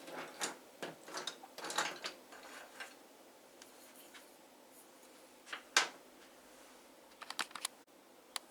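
A blue colored pencil scratches and taps on paper in short, irregular bursts of light strokes, close and quiet, with pauses between clusters of marks.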